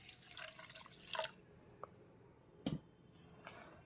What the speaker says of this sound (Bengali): ডালটাকে প্রথমেই পরিষ্কার করে জলে ধুয়ে নেব